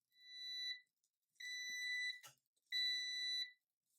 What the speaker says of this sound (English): All right, it beeps, so I'll go ahead and open this.